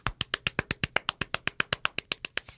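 A steady run of about seventeen sharp hand claps in a studio, evenly spaced and close, each one a crisp, dry smack with a quick decay, alone without voices.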